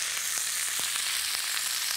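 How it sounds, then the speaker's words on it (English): Lamb pieces sizzle steadily in a hot pan, a constant crackling hiss broken by small pops, heard up close with no talking. "let's get frying"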